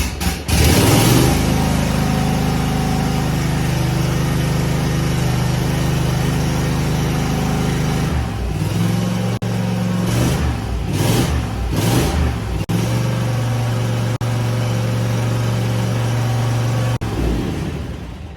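A Cub Cadet ZT1 zero-turn mower's engine runs loud and steady at close range, holding a constant drone with a brief unsteady stretch midway before settling back to an even run.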